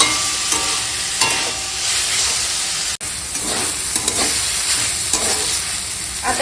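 Tender red amaranth greens sizzle steadily in a hot pan while being stirred, with repeated scraping strokes over a constant close frying hiss.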